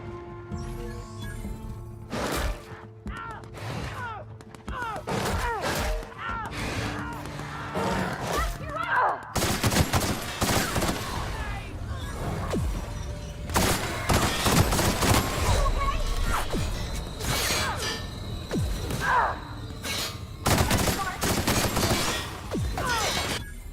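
Gunfire in the sci-fi video game The Outer Worlds, with repeated loud bursts and sharp shots in an irregular, sometimes rapid rhythm, mixed with crashes and game sound throughout.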